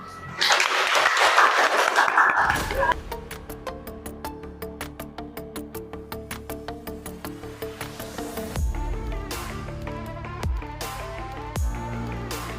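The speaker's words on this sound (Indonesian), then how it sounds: "ayo semua tepuk tangan" A short burst of group clapping fills the first couple of seconds at the close of a classroom teaching presentation, then gives way to a bright, plucked musical melody with sustained tones that carries on alone.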